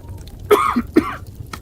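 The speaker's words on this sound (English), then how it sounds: "a cough to accompany it" Two short, sharp coughs a moment apart, close and clear, with nothing else around them.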